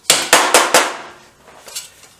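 Four quick, loud hammer strikes knocking a metal part of a Triumph 500 motorcycle on a flat surface, close by, followed by a couple of fainter taps as the ringing fades.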